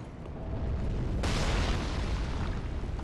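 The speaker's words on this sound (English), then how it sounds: "So normally you're supposed to like turn off this ballista up here." A ballista in Dark Souls 3 fires, a sudden loud burst that cuts in partway through and rolls on as a broad, rumbling roar over a low background.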